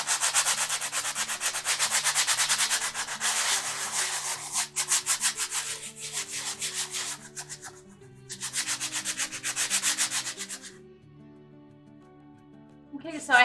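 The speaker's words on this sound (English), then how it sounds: "take your sandpaper and go ahead and sand smooth off any of the glitter or wording that's on either of these." Sandpaper is rubbed back and forth over Dollar Tree wooden decor pieces to take off glitter and printed wording, giving loud, close, steady rasping strokes in long bursts with short pauses and a brief quieter gap near the end.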